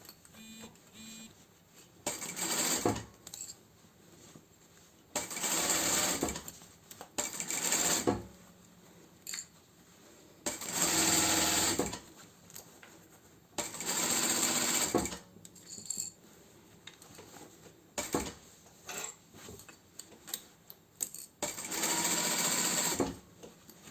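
A sewing machine stitches the seam of a fabric plant pot cover in several bursts of steady whirring, separated by quieter pauses filled with handling and clicks.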